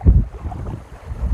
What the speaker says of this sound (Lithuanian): Vakarinis vėjas, taip smagia bangelį.